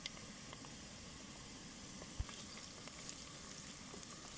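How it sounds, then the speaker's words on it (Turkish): Onion frying in oil with a steady sizzle and soft, continuous crackle, close up, with occasional faint clicks and one brief low knock. "Zeytinyağı, sıvı yağ hangisini tercih ederseniz soğanımı kavuruyorum."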